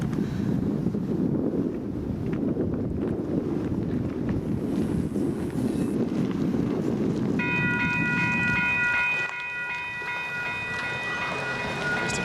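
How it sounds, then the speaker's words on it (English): Union Pacific southbound freight train passing in Northeast Arkansas, a loud, close rumbling roar of rolling cars with heavy wind buffeting the microphone, fading toward the end as a horn-like steady tone sounds. "Alright, so finally a train's coming."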